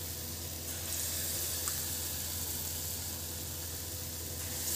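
Sweet ripe banana pakoras fry in hot oil over a medium flame, giving a steady, close, even sizzle that crackles continuously without any voices.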